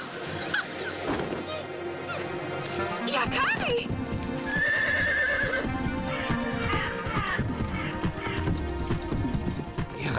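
Cartoon horses being ridden, several whinnies and neighs over a steady clip-clop of hooves, loud and close, with music and voices mixed in around them.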